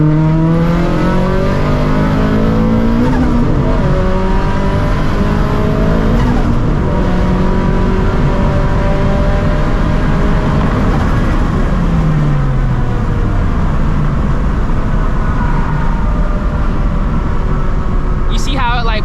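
A 400hp turbocharged Scion FR-S makes hard, loud pulls with rising engine drone through the gears. Pitch sweeps and changes with each shift, and sharp exhaust pops are heard near the end. Wind and cabin roar fill the background.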